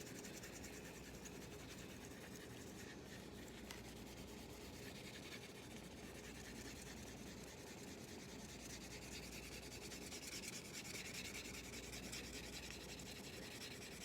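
A 3D-printed part is wet sanded by hand, making a quiet, continuous gritty rubbing that holds steady throughout with no speech.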